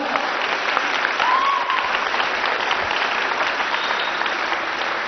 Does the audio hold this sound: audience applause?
yes